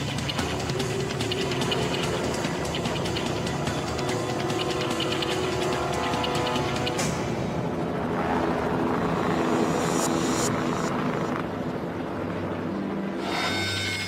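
Helicopter over the Potomac River at an air crash rescue, a loud continuous rotor and engine roar with rhythmic chopping texture that holds steady throughout.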